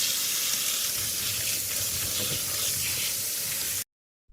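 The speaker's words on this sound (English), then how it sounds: "I will wash the blueberries." Fresh blueberries being washed under running water, a steady hissing stream from a tap pouring continuously and close for nearly four seconds before cutting off abruptly.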